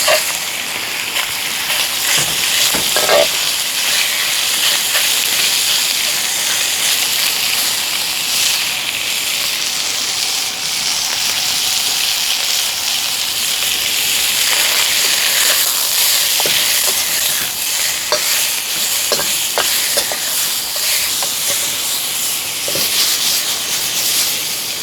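Pork slices stir-frying in a hot pan on an outdoor setup, a loud continuous sizzle and hiss with occasional scrapes and pops of stirring, steady for the whole stretch.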